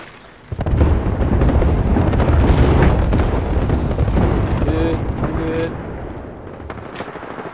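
Airstrike explosions in Apex Legends roll in as a loud, continuous rumbling barrage of booms and blasts that starts abruptly and lasts several seconds, with some faint game tones on top and no clear talk.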